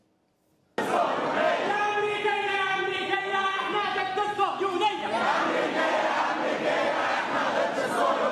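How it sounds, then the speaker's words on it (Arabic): Students at a protest against the Israeli occupation, supporting the Palestinian cause, chant slogans together in a loud, rhythmic crowd of voices that starts abruptly and carries on steadily. "الطلاب رددوا هتافات رافضة للاحتلال الإسرائيلي ورفعوا لافتات تدعم القضية الفلسطينية"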